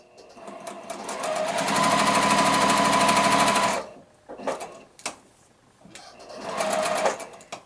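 Sewing machine stitching a quilt block along a drawn line, a loud steady run of close rapid stitching that stops, then a short second burst after a pause.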